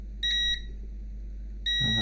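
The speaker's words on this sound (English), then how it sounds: "Now has to beep and has to stop." A car radio on the repair bench, a DaZhong Wince unit with a shorted diode, gives two clear electronic beeps during testing. The first is short and doubled, the second follows after a pause, each alone against a low hum.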